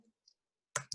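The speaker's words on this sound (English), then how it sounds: "I'm typing deliberately slowly, so you see that every keystroke is being" Two crisp clicks from a computer keyboard come close together near the end after near silence, with a couple of faint ticks earlier, like slow deliberate keystrokes.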